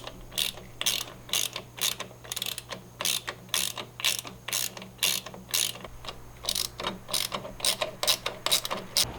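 A ratchet wrench clicks in rapid repeated bursts while backing out the crank damper bolts on a 2JZ engine, close and loud, with short pauses between strokes.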